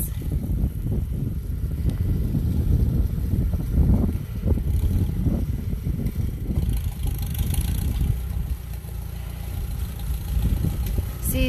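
A 1953 Farmall tractor drives over a potholed driveway in chilly wind, its engine a steady low rumble throughout, fairly close, mixed with wind noise.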